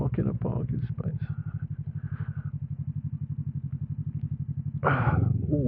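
A motorcycle idles and putters through slow-speed manoeuvres in a parking area, its engine pulsing steadily with a brief rev near the end, while a rider talks over it.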